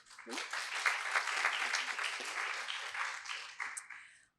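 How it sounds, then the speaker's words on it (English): Audience applause for a professor at a university lecture, a steady wash of many hands clapping for about four seconds before stopping abruptly, fairly distant and even. "Professor, round of applause."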